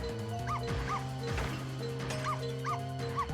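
Small dog barking repeatedly in the Ghost Trick video game, a run of sharp yips and barks over a steady game music bed, with a crashing hit midway.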